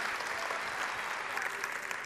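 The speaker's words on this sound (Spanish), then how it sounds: "Un aplauso para Manola, por favor" A theater audience at a cabaret comedy show applauds, a dense, even roar of many hands clapping throughout.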